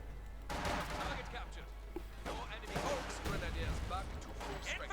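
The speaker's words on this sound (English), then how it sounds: "More shooting." Gunfire in the real-time strategy game Company of Heroes 2, scattered rifle and machine-gun bursts amid battle noise, moderately loud and steady, with a commentator talking over it.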